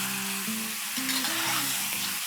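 Steady, close sizzle of a spice paste with finely chopped green chilies sautéing in a pan, with a faint musical tone playing beneath it.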